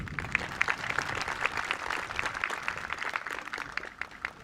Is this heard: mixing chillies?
no